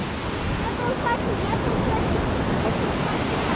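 Waves of the Black Sea at Dzhemete, Anapa, break and wash in continuously nearby, a steady broadband rush of surf with wind across the microphone.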